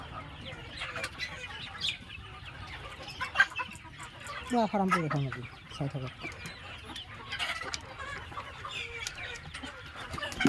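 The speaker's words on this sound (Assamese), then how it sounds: "সেইটো চাওক মুৰ্গীবিলাক" Chickens on a poultry farm cluck and call repeatedly at close range, with a brief flurry of wing flapping, while someone talks over them throughout.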